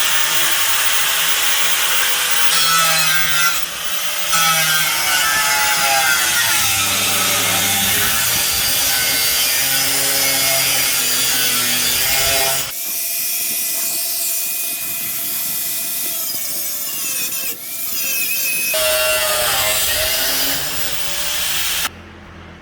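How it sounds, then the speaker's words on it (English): A cut-off wheel grinds through the bumper of a Lexus GX470, a harsh, loud, continuous screeching roar that shifts in pitch, drops out briefly midway, then resumes close up without voices. "We actually used a death wheel and just cut the bumper off"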